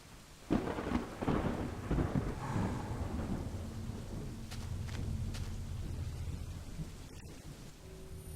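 Deep rumbling thunder rolls beneath steady rain, with a heavy crack early on and the storm grumbling on continuously.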